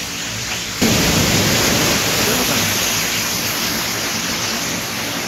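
A waterfall rushes beside a mountain road in Arunachal Pradesh during a motorbike trip. Its dense, steady roar cuts in abruptly just under a second in and stays loud and close.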